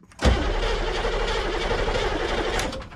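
An M998 Humvee diesel engine turns over on a weak battery, with a sudden onset and a continuous churning crank for a few seconds, rough and close.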